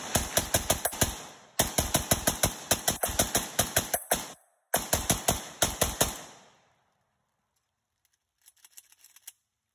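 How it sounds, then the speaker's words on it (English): A PSA AK-103 rifle fires a rapid magazine dump, loud close semi-automatic shots in quick bursts with brief pauses, then the firing stops and a few faint metallic clicks and handling sounds follow. "Mag dump."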